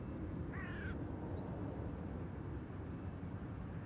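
A single crow caws once, fairly clearly, over the steady low roar of aircraft at Amsterdam Schiphol airport.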